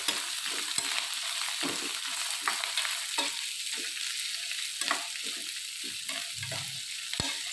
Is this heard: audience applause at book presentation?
no